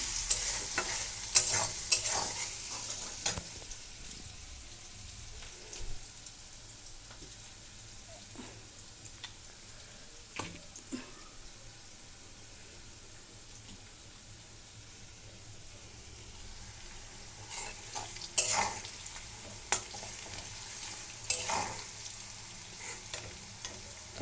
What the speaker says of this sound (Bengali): দেখো আমার পেঁয়াজ ভাজা হয়ে গেছে